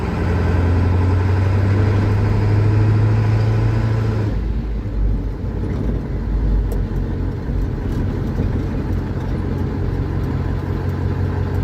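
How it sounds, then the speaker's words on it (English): A 1977 Ford HighBoy with a swapped 7.3L Powerstroke diesel engine rumbles loudly and steadily from close by. Its droning engine tone shifts partway through as the truck moves off. "let's take this thing for its drive"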